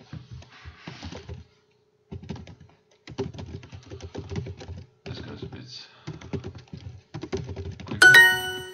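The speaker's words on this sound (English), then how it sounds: "I have a Russian keyboard, but it takes quite a long time to find the letters." Keys clatter on a Russian-layout computer keyboard in quick irregular bursts with short pauses, fairly close and alone, ending in a brief brighter clack.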